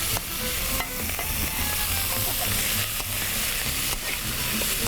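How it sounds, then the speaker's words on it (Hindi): Prawn shells frying in a pan, a steady close sizzle with stirring scrapes and clicks at intervals, lively and continuous. "इसको फ्राई करेंगे।"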